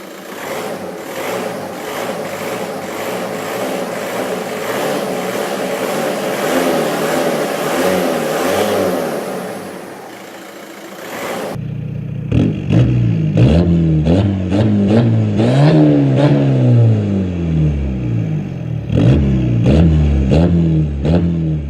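A Volkswagen engine known for rough running rumbles at idle with a mid-pitched, uneven drone, then breaks into sharper, louder revving bursts that rise and fall close by.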